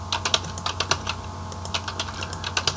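Rapid keystrokes on a computer keyboard while nonsense data is entered into an Excel form, a steady close clatter of separate key taps with no voices.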